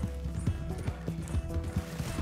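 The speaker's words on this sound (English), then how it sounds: "My horse is getting pretty tired." Horse hooves clip-clopping in a steady trot, with a brief whinny, from the Red Dead Redemption 2 video game, moderately loud and continuous with no speech.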